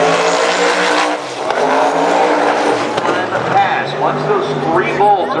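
A race car running at about 191 miles an hour in an auto racing event, its loud, sustained engine roar shifting in pitch as it passes, heard under an announcer's commentary.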